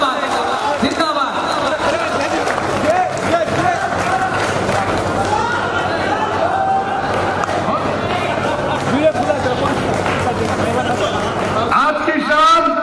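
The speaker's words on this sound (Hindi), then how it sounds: "भाई तालियां बजा लीजिए पूरा मजमा एक मरतबा मिशन साहब के लिए" Large audience at an all-India mushaira cheering and clapping continuously, a dense, steady roar of applause and shouts filling the whole stretch at full loudness.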